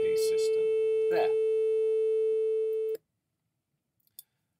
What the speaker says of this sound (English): So that's just a simple way of generating a sine wave.